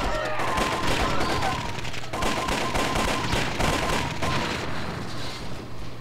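Laser rifle fire in the Army Men toy soldier game's space battle mode: rapid, dense bursts of shots layered with other gunfire and explosions, loud and steady across the stretch.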